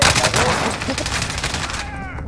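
Enemy gunfire in a video game: loud, dense bursts of rapid shots crowd the whole clip and ease off toward the end, with voices mixed in.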